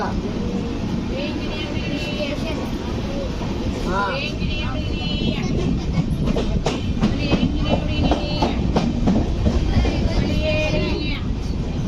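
The 12757 Kaghaznagar SF Express rumbles along between Secunderabad and Mancherial, heard from inside with a steady loud roar and rhythmic wheel clatter, while people talk throughout.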